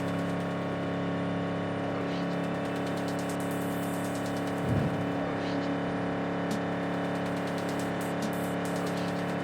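Steady high-speed car engine drone from a vehicle racing along a city highway in Cyberpunk 2077, a continuous loud hum with a brief whoosh midway.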